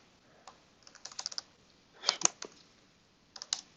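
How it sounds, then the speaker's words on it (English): Quiet typing on a computer keyboard during a Docker and Podman networking demo, with a few scattered keystrokes followed by two short bursts of clicking key presses. "I just can't type again."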